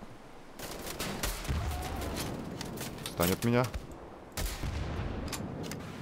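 Gunshots ring out in the video game Wolfenstein: The Old Blood, sharp bursts of rapid fire followed by a couple of louder shots, with someone talking over the action.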